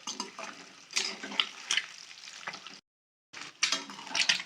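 Eggs frying in hot oil in a pan, a steady crackling sizzle with sharp spitting pops that cuts out briefly before resuming, no talking.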